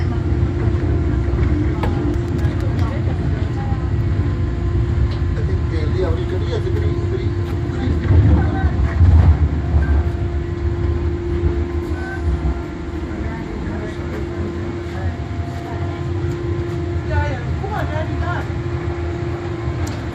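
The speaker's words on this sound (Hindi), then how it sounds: "ये जो ट्रेन गुजरी है ये हॉलैंड से आई है, फेलनो से।" A train from Venlo in Holland passes through Wuppertal, Germany, as a loud steady rumble with a droning hum that swells briefly midway, while people talk nearby.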